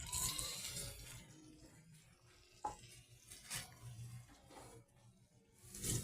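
Water poured into a hot cooking pan with sotanghon noodles and canned sardines hisses and sizzles in soft, uneven bursts, with a brief clatter midway and a louder splash of sizzle near the end.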